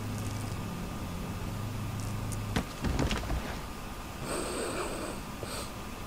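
A player-character death sound from the horror video game Amnesia, with a sudden sharp hit, a burst of low gasping, snort-like breaths and a fading electronic whine, heard alone against a steady ambient hum.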